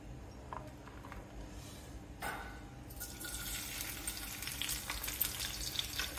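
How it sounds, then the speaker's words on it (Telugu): Tempering spices frying in hot oil in a pan for a coriander seed chutney, a steady close sizzle and crackle that grows louder and busier toward the end, with no talking. "ఇప్పుడు ఈ ఆయిల్లో ఈ పోపు వేసుకోవాలన్నమాట అండి."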